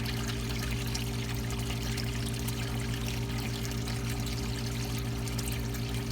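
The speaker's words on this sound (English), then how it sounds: "it won't take long for the water to fill up" Water pours steadily into a 170-gallon aquarium during a water change, a continuous close rushing trickle with no pauses, over a low steady hum.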